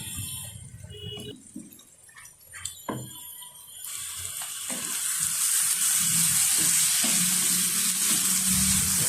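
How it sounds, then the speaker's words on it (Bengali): Raw peanut paste fries in a pan, starting with a few stirring scrapes and clinks before building into a loud, steady hissing sizzle that fills the rest of the clip. "আরও কিছুক্ষণ আমি বাদাম লাড়াটা ভাজবো"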